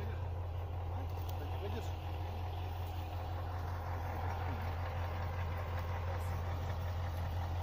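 A stopped vehicle's engine idles close by before towing a stuck car, a steady low rumbling hum with no revving, while faint voices murmur in the background.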